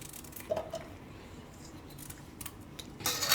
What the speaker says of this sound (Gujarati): તો 3 ગાજર આપણે આ રીતે ટુકડા કરી લેવું